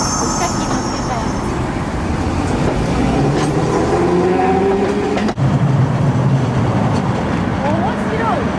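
A tram rumbles past on a busy street in Nagasaki, with a steady loud roar, rising and falling rail tones and a sharp clunk midway, all mixed with traffic noise and some talk.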